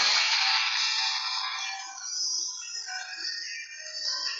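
Mobile phone ringtone playing steadily and fairly softly, a continuous electronic tune with no speech over it.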